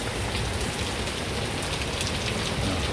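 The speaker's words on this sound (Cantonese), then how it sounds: "落雨落得幾密" Heavy rain pouring outdoors, heard from under a shelter on a hillside rainbow-railing trail in Tuen Mun, a dense, steady hiss and patter filling the air with no voices.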